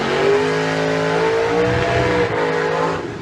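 1955 Chevy car doing a burnout, a loud sustained engine roar held at high revs with a steady rising tone, then easing off at the end, heard alone without talk.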